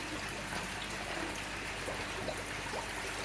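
Water pouring steadily into a garden koi pond being topped up after a filter clean, a continuous close trickling and splashing stream with no speech.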